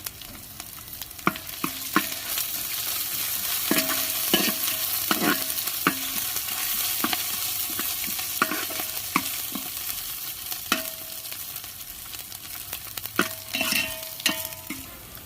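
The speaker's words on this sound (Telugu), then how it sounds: "అల్లం పేస్ట్ పచ్చి వాసన పోయే వరకు అయితే ఫ్రై చేద్దాము" Ginger paste and garam masala sizzle in hot oil in a pan while a spoon scrapes and stirs at an irregular rhythm, sharp clicks and scrapes breaking through the constant frying hiss.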